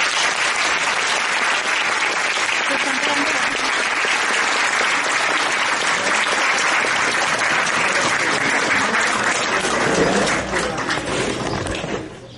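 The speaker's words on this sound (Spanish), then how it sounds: "Un aplauso." Congregation at a priest's 50th ordination anniversary celebration gives long, loud sustained applause to a visiting bishop, steady throughout before fading near the end.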